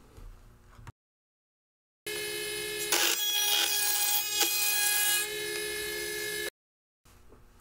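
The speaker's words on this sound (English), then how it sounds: "Back at the router table, I take 1/2 inch cove bit and make the radiuses for the inside where the barrel sits" Router table with a 1/2 inch cove bit cutting radiused recesses into a wooden handle for a Daisy Red Ryder carbine Model 10 rebuild; a steady high whine runs about four seconds with a rougher cutting rasp in the middle, framed by silence.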